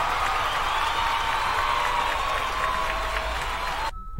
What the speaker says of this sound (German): dafür gibt es nochmal Applaus